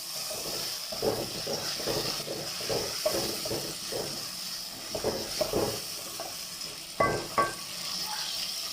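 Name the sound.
tomatoes being fried and browned for chicken biryani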